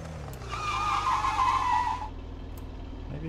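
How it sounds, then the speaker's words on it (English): A vehicle skids across grass in the video game Unturned II, a loud, sustained tire-squeal screech lasting about a second and a half over a steady engine drone, then fading back to the engine hum. "Maybe you shouldn't be skidding on grass"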